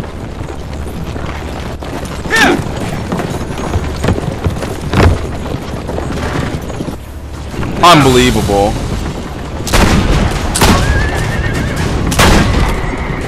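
Horses in the Assassin's Creed: Brotherhood video game neigh and whinny several times amid galloping, clattering and booming game effects, with someone talking over the action throughout.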